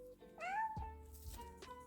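A small cat gives a single rising-and-falling meow, close and clear, followed by a brief softer vocal sound, over quiet room hum with a faint thump in between.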